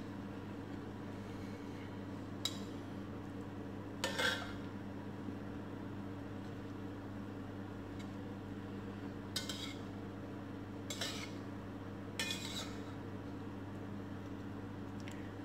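A spoon scrapes and clinks against a pan while chicken vegetable rice with omelette is stirred, a few sparse metallic taps over a steady low hum, quiet and without speech.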